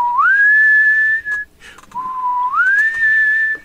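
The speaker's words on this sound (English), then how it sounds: "He's whistling that same tune." A person whistles a short tune, two clear rising phrases separated by a brief pause, loud and close with no speech.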